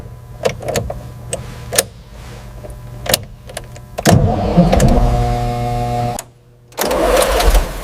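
A 1936 Rolls Royce Phantom III engine is cranked: a few sharp clicks and short bursts, then a grinding, rising whir of the starter for about two seconds, a brief drop to quiet, and the motor churning again.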